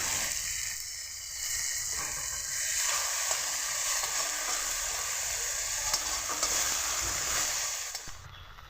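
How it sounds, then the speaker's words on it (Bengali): Ginger paste frying and being stirred in a hot pan over a raised gas flame, a steady close sizzle with scraping stir strokes running throughout, fading slightly at the end. "আদার গন্ধ যে একটা আছে সেই গন্ধটা যেন চলে যায় তার জন্য ভালো করে কষিয়ে নিচ্ছি"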